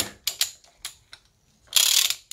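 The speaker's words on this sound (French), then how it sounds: "Le cliquet, il est là." A ratchet wrench turns a glow plug on an Audi V6 TDI engine: a few separate close clicks, then a quick, loud run of ratcheting near the end.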